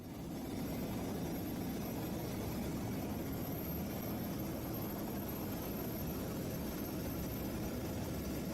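Helicopter in Antarctica lifting off for a flight out to Cape Hallett, a constant broadband rotor and engine roar, faint and distant-sounding, with no talking.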